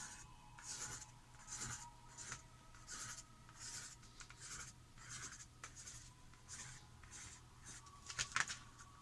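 A pencil scratches curly lines on paper in a quiet room, giving soft, rhythmic strokes repeated about once a second, with a sharper scrape near the end.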